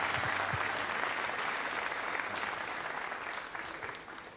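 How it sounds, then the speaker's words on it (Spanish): A church congregation at a Sunday gathering gives a steady round of applause, a soft, even wash of many hands clapping that holds for several seconds and tapers slightly toward the end. "Un fuerte aplauso."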